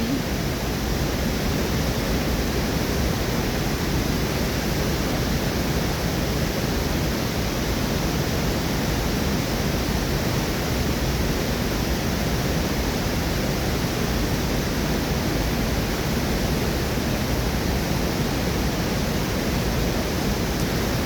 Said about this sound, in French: on peut se connecter à la puissance de la chute des cascades ici